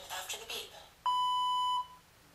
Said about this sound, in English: Speak your description after the beep.